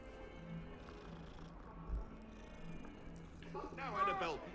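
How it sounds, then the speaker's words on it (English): A group of cats purr in the video game Hogwarts Legacy, a soft low rumble beneath ambient game sound, with a person talking near the end. "Look at all these cats, bro."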